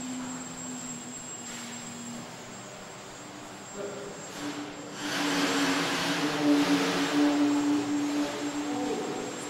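The small yaw motor of an indoor blimp spins up for a turn on the spot, giving a steady whirring hum that swells louder partway through and holds, with no talking.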